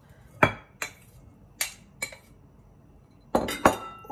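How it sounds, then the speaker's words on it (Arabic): Peanuts go into a mixing bowl while baklava filling is prepared: six sharp, separate clinks, some close together, with quiet pauses between them. "كناخذ واحد الانيه اللي غادي نخلط فيها الكل. كنوضع الاول الكاوكاو"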